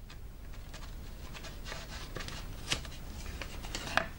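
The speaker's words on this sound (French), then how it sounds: "une fois que la bande est maintenue, on va juste couper à ras" Scissors trim a paper strip flush on a handmade interactive card, a faint run of small crisp snips and rustles ending with a couple of sharper clicks, close and quiet.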